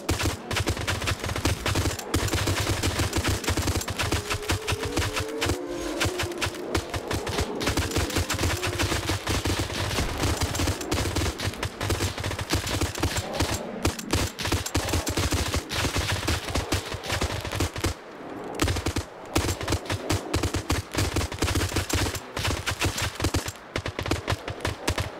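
Relentless gunfire in The Secret War 2 as Soviets battle monsters: dense, rapid machine-gun bursts and overlapping shots rattle almost continuously, with only a brief pause before the firing resumes.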